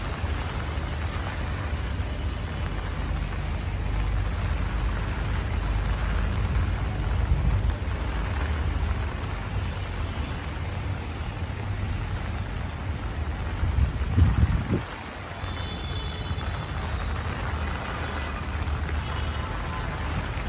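Steady rain pours onto a rooftop garden during cyclone weather, a dense continuous hiss with low rumble throughout and a brief louder gust-like swell near the end.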